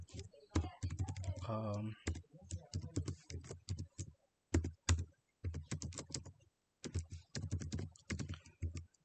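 Rapid clicking keystrokes on a computer keyboard during a Windows login, coming in quick bursts with short pauses, close and crisp, with a brief spoken filler in the middle.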